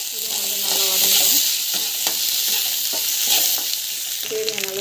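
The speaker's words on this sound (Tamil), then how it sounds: "இஞ்சி பூண்டு பேஸ்ட் வந்து ஆட் பண்ணலாம். நல்லா வந்து வதக்கிக்கலாம்." Loud, steady sizzling of ginger garlic paste frying in a hot pan, with scraping stirs throughout and no talking.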